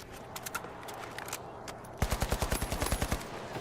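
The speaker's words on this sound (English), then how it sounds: "AK shot's looking a little bit shaky here." AK rifle fire in The Finals during a 1v1 tournament fight: scattered distant shots at first, then a close, loud burst of about ten rapid rounds in steady rhythm.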